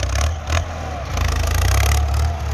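An old Ford tractor engine pushing soil with its blade rumbles steadily with deep, throbbing low pulses, loud and nearby, rising slightly as it works.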